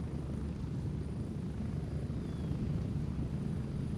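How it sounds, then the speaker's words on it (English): A military helicopter in the shooter game Gray Zone Warfare, heard from inside the cabin as a steady, loud rotor and engine roar that continues without a break. "Does it come with the helicopter?"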